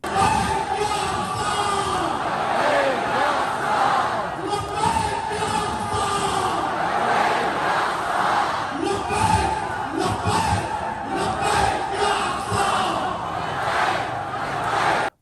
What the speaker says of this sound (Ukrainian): Під крик організаторів в одному пориві натовп вимагає свободи Палестині.